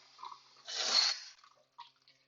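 Cold tap water briefly splashes and runs over sprouts being rinsed, a soft hiss swelling for about half a second, then faint drips and small splashes close by, with no talking.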